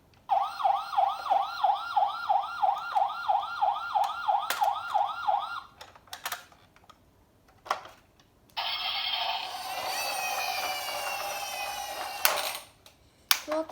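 A toy police car siren from a friction-wheel light-and-sound vehicle toy wails up and down in a fast, regular rising-falling cycle. After a pause, a steadier high electronic tone follows, loud and close with no voices.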